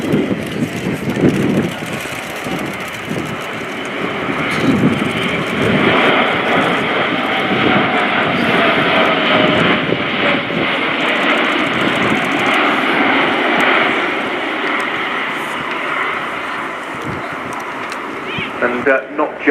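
An Airbus A400M Atlas military transport aircraft performing a steep pushover during an airshow display at RIAT 2018, its loud, continuous turboprop engine roar sustained throughout and joined by distant crowd and commentary noise.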